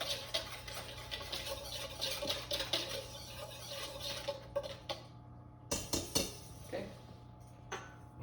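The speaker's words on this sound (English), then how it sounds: "and just whisk it up" Flour and baking powder are whisked in a bowl for a honey cake, giving quick, light ticking and scraping clicks in irregular bursts, close and faint, with a brief pause midway.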